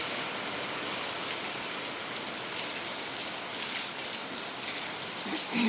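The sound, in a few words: morning rain in village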